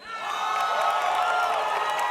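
Esports crowd at a Call of Duty MLG Las Vegas 2016 match between Faze Clan and Cloud9, cheering and whooping in a steady roar that swells slightly and holds without a break.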